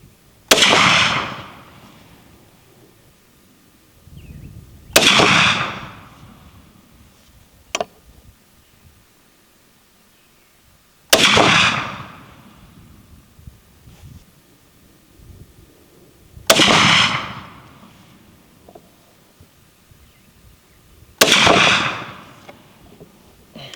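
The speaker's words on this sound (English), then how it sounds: "We're gonna keep shooting here. Got 5 shots left." Five loud rifle shots from a .450 Bushmaster firing 225-grain FTX ammunition, spaced roughly five seconds apart, each a sharp crack trailing into a rolling outdoor echo, with quiet handling noise between.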